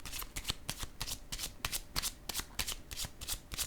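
Cards handled during a tarot-style card reading: a quick series of crisp slaps and flicks as a card is laid down, close and fairly quiet, with no talking.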